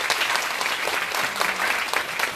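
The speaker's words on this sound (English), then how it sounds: "Just one last round of applause for each." An audience at an AGM panel discussion applauds steadily for the panel speakers, a dense, even clapping that holds throughout with no talking over it.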